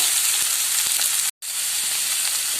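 Cabbage and carrot sauté in a hot pan for restaurant-style veg noodles, giving a steady, loud sizzle that drops out for an instant midway and then resumes.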